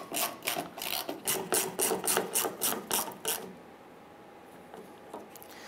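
Ratchet tightening the fuel pump module bolts on a 1995-2001 Ford Explorer: a quick, even run of about a dozen close rasping clicks for roughly three seconds, then near quiet.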